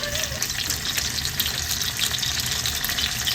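Bacon frying in a generous amount of cooking oil, a steady dense sizzle and crackle held close and fairly loud throughout, with no talk over it.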